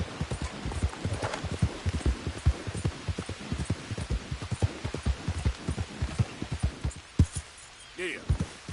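Horse hooves clip-clopping at a steady trot while riding in a video game, a dense, even rhythm of close hoofbeats continuing throughout with no other prominent sounds.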